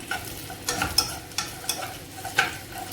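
Soft scraping strokes as vermicelli is stirred in a pan over a low flame at an unhurried pace, with a faint sizzle underneath and no voices.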